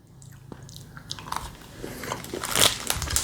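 Biting into a crunchy white chocolate candy that contains bugs: a close crunch of the bite followed by crackly chewing that grows louder toward the end.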